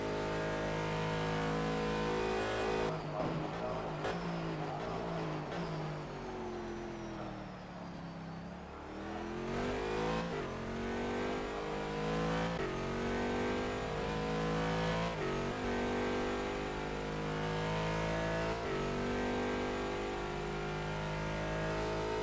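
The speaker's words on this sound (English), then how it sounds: "accelerating out of the final turn. And down the pit straight." Race car in a sim racing game at the Bahrain circuit, engine roaring steadily as it accelerates out of the final turn and down the pit straight, with rising pitch through gear changes and a brief dip mid-run.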